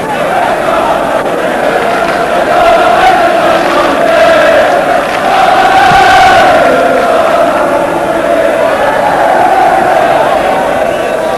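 Thousands of Grimsby Town fans at a Barnsley football match fill the ground with a loud, sustained crowd roar and chanting, with a commentator's voice running over it.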